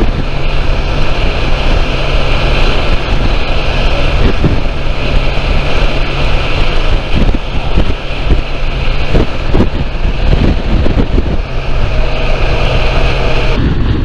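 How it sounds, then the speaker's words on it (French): Steady, loud wind roaring and buffeting across the microphone on a coastal road near Cádiz lined with wind turbines, a dense continuous rush with low gusty thumps and no talk. "Ah mais là il y a un peu de vent aussi."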